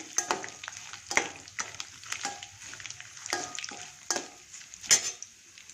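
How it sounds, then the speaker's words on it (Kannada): Peanuts frying in a pan are stirred with a utensil, making intermittent scraping and clattering strokes over a soft sizzle, close and fairly quiet with no talking. "ಕಡಲೆಕಾಯಿ ಬೀಜ ಬಾಣಲಿಗೆ ಹಾಕ್ತೀನಿ"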